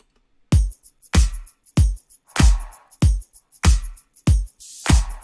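A Western-style drum beat for a music track, with strong, evenly spaced kick-and-snare hits at a steady moderate tempo and light ticking between them, loud and dry with no voices.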